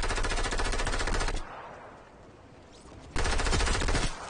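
Loud bursts of rapid automatic gunfire from the Fortnite video game, a dense rattling volley, then a quieter lull, then another sustained burst near the end.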